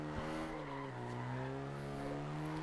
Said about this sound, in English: So we get a nice big drift.